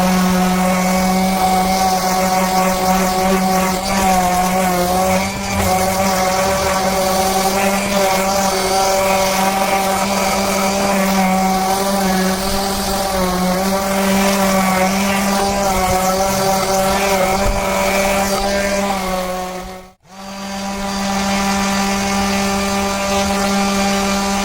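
A power sander works a wooden board with 60 grit sandpaper, a loud continuous motor whine with steady droning tone that briefly cuts out near the end, then resumes.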